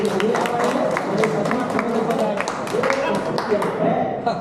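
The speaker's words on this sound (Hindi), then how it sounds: "इसलिए तालियां बजा सकते हैं आप।" Clapping from the crowd at a political meeting in Phusro, with dense overlapping claps and loud crowd noise, and talk running beneath the applause.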